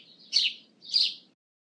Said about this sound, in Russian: Воробей.